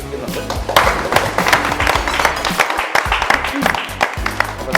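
A group applauds at a celebration for a television serial's 300th episode, with steady dense clapping near the microphone that carries throughout, with voices faintly mixed in.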